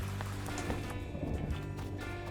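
Rain falls in an animated cartoon scene, a faint, steady patter of drops with some light tapping over a low background hum, with no voices over it.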